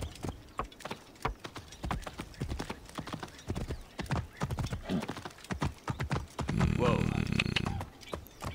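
Steady clip-clop of horse hooves trotting close by in Assassin's Creed Origins, with a brief whinny-like burst near the end and some voices mixed in.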